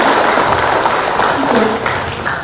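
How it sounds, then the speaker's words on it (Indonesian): At a regional election candidate's vision presentation, the audience applauds three panelists with a loud wash of clapping mixed with a voice speaking over it. "Tepuk tangan untuk ketiga panelis kita."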